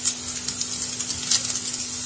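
Boiled rice mixture for a tricolour pulao layer is stirred in a hot pan, making a soft sizzle with repeated light scraping strokes over a faint steady hum.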